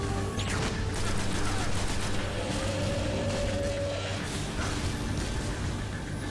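Enemy gunfire in the Destiny Venus strike: steady, dense shooting and mechanical clatter that stays loud and close throughout, with a faint whoosh and boom mixed in.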